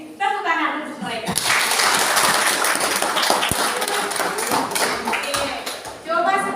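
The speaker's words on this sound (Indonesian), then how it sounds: "tepuk tangan untuk mereka" A classroom of students applauds their classmates, with brisk, dense clapping swelling up after a brief voice and running for several seconds before talk resumes at the end.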